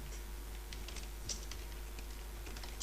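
Fingers type on a computer keyboard in a quiet room: faint, irregular clicking keystrokes over a low steady hum, with no talking.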